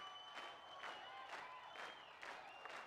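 Crowd cheering and applause sound effect played during a live stream, coming through faintly in a few swelling bursts of clapping and cheers.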